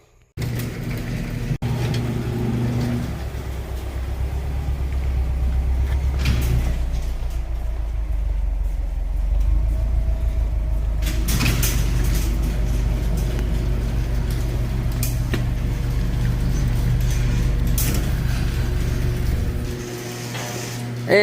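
A Subaru WRX STI rolls onto weighing scales in a workshop, its engine a low continuous rumble that rises and surges, with brief mechanical clunks and rattles.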